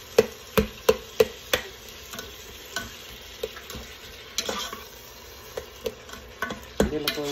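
Tomatoes cook in a pan with a spoon or spatula stirring, giving a run of sharp clinks and scrapes over a faint steady sizzle, strongest at the start and again near the end.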